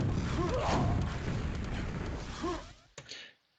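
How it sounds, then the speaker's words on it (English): In Quake's DM3 map during a 4on4 deathmatch, a player climbs out of water with a brief splashing rush. It sits inside dense, noisy game audio and is followed by a couple of sharp clicks. "did you hear someone getting out of water just then?"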